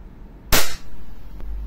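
WE Glock 17 Gen 5 airsoft pistol fired once during an FPS test with .20 BBs: a single sharp, loud crack near the start, with a faint click afterward.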